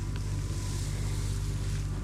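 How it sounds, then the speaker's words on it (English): A small skid steer engine drones steadily while pushing a hay bale, a constant low mechanical rumble held close and loud throughout with no pauses. "Now she's gonna bring the little skid steer in and see if she can kind of push it around a little bit."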